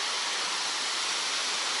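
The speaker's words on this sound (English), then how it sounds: "I can see the waterfall." A remote waterfall in the Philippines gives a steady, dense rushing roar that fills the whole stretch evenly, with no voices or breaks.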